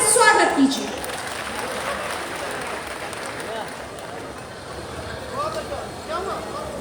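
Crowd at the Thawe Mahotsav in Gopalganj applauds to welcome health minister Mangal Pandey, a loud burst at first settling into softer, sustained clapping with voices mixed in.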